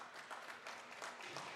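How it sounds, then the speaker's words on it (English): Fans at a college club ice hockey game, South Carolina against Charleston, applaud a player getting up after a hit, a faint, distant patter of clapping throughout. "fans applaud"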